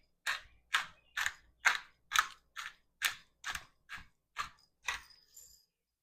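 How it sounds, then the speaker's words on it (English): A pepper mill cracks fresh black pepper with about eleven sharp grinding bursts in an even rhythm, close and fairly loud, with no voices. "Fresh cracked black pepper."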